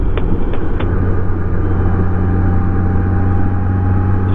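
Vehicle heading north from Arcata through fog, a loud, steady low engine and road rumble that stays constant throughout, with a few faint ticks near the start.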